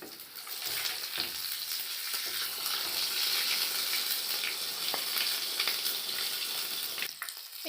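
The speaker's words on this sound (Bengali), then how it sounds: "তেল গরম হয়ে গেছে, আমি ছেড়ে দেবো আস্তে করে তেলের মধ্যে।" Pea kachori frying in hot refined oil, a dense, steady sizzle and bubbling hiss that carries on evenly at close range with brief dips near the end.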